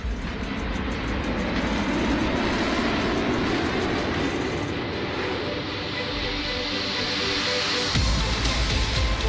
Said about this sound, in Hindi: पूर्वांचल एक्सप्रेसवे पर मिराज 2000 के साथ सुखोई और जैगवार विमानों ने अपने करतबों से लोगों का मन मोह लिया।